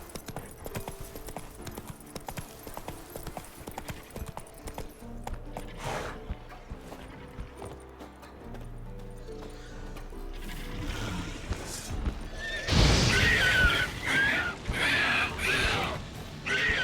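Horse hooves clip-clopping from Roach, Geralt's horse in the Witcher video game, a steady rhythmic trot under music, with louder, denser noise swelling in the final seconds.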